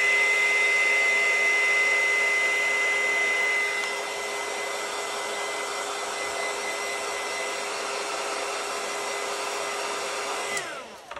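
A hair dryer blows steadily over glue on ribbon crafts with a constant high whine, its pitch shifting slightly partway through, then cutting off near the end.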